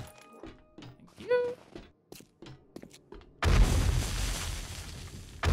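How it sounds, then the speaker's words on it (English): Explosions in the video game 7 Days to Die: after scattered thuds and a short tonal chime, a loud, dense blast erupts and rumbles on as a sustained roar to the end. "A lot of shit exploding."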